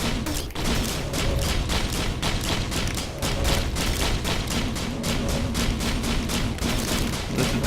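Rapid weapon fire from a character in Risk of Rain, a dense, continuous stream of shots and blasts that holds loud and steady for the whole stretch with no voices.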